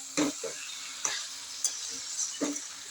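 Potatoes stirred and cooked in a pan, giving a steady hiss with a few scraping stirs spaced through the stretch, close and fairly quiet, without talk.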